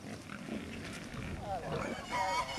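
A Hungarian Mangalitsa pig, a breed suited to cold conditions, gives a few low grunts and snuffles that are quiet and mixed with farm background noise, while a person talks over them.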